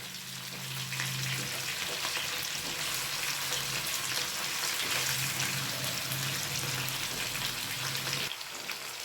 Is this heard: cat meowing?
no